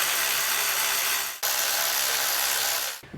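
A hand ratchet tightens valve cover bolts on a 2005–2008 Honda Pilot engine, giving a dense, continuous clicking of the pawl in two steady runs with a short pause between them, close and fairly loud.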